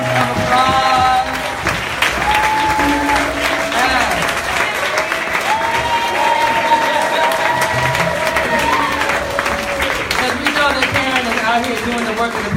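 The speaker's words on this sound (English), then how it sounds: "big round of applause?" A crowd at a 2017 Brooklyn event applauds and cheers for Karen Thompson, sustained clapping and whoops mixed with background music and voices throughout.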